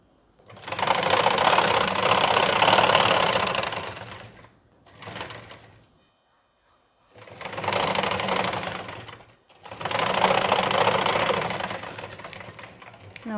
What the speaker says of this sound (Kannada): ಇದ್ರ ಮೇಲ್ಗಡೆಯಿಂದನೂ ಹೀಗೆ ಒಂದು ಹೊಲಿಗೆ ಹಾಕಿಬಿಡೋದು